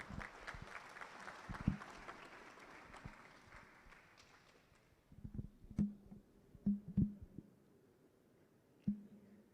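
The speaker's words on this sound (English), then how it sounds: "Let's welcome her with a clap." Audience clapping to welcome the executive director of Clean Africa at a KNUST summer school gathering, a broad wash of applause in the first half that thins out into scattered, isolated claps and knocks.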